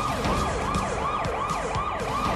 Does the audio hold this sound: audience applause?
no